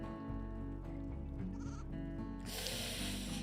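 Goats on a RimWorld colony farm, some of them ill, bleating in a loud, wavering cry close by over a steady game-music background, followed by a burst of hissy noise.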